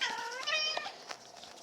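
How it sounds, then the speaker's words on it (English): A cat meows several times in quick succession, close and fairly clear, with rising and falling cries and no talking. "That's my cat."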